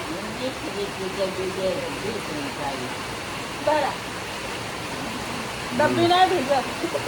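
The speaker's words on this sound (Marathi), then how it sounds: "लईच पाऊस येतोय" Heavy rain pours down in a steady, close-up broadband hiss that barely changes, with a couple of louder gusts and voices talking over it.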